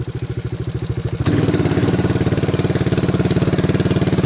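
A Quadrunner 250 ATV engine chugs in two-wheel drive super low gear, a steady rapid mechanical thrum that jumps louder and busier after about a second, then holds an even, clattering pulse close by with no talking.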